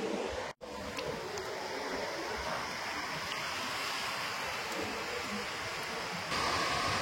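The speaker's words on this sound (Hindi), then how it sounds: "देखु समुद्र बहुत बड़ बड़ लहड़ी" Large sea waves at Siali beach roll in as a steady, loud wash of surf, broad and continuous, with a brief dropout early on and a slight swell in volume near the end. No one speaks.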